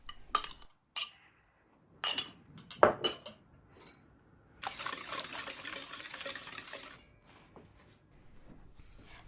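Beaten eggs being mixed into banana cake batter in a bowl for a rice cooker cake, heard as clinking utensil taps against the bowl in several bursts, then a steadier wet stirring swish, close and moderately loud, with no talking.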